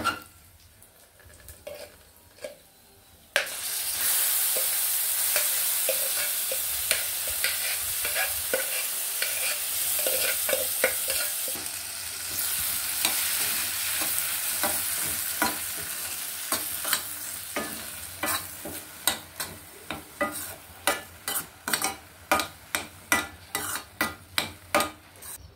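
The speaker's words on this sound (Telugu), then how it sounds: "పోపు వేగిపోయింది, పప్పు వేసేస్తున్నాను." Cooked dal poured into a pan of fried tempering with mustard seeds, curry leaves, dried red chillies and asafoetida, hissing loudly then stirred with a spoon in repeated scraping strokes that grow rhythmic toward the end.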